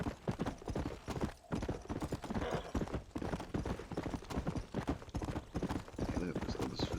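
Horse hooves clip-clop in a quick galloping rhythm while riding in Red Dead Redemption, steady and close, with someone talking over much of it and a brief whinny.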